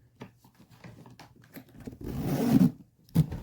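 Zipper on a kensie 20-inch Alma carry-on spinner suitcase being pulled, heard as a close rasping zip with ticking teeth, swelling into a longer grinding stretch and ending in a final short tug.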